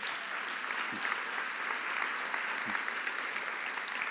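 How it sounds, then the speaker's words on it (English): Audience at a United Way kickoff event giving a round of applause after a video, a steady, even wash of clapping throughout with a couple of brief low voice sounds underneath. "Give it a round of applause if that video was powerful."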